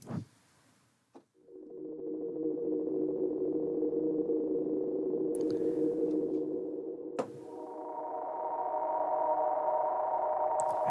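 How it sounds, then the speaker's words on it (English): A synth pad built from a sampled audio clip in Ableton Sampler holds a smooth, steady tone, shifting to a brighter sustained layer midway, heard alone after a short click and thump at the start. "it will basically become a different kind of pad sound"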